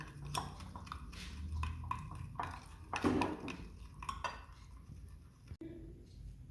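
A spoon scrapes and clinks against a bowl while spices are stirred into fruit chaat, giving irregular metallic taps and rattles that are close and fairly quiet, with one brief louder clatter.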